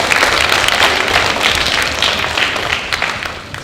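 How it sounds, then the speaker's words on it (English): A school assembly crowd claps loudly and continuously, a thick wash of applause that eases slightly toward the end. "Give Joe a clap"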